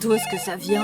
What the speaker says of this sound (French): Je crois que c'est mon téléphone.